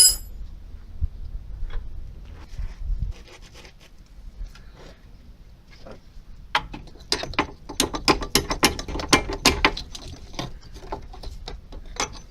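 A spanner doubled onto another spanner works a front brake bolt loose on a Toyota Avensis 2.2 diesel, giving quiet clicks at first, then a dense run of sharp ratcheting ticks and metallic snaps, close and alone.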